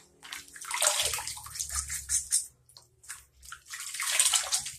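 Water scooped by hand from a filled basin or tub and squished into wet hair, giving repeated sloshing splashes and squelches in uneven bursts, close and fairly loud, with quiet gaps between scoops.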